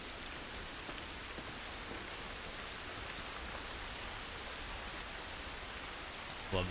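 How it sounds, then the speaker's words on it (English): Rain pattering down in The Last of Us Part 2, a constant soft hiss of drops striking surfaces, steady throughout with a small bump at the very end. "This rain ain't gonna do us any good."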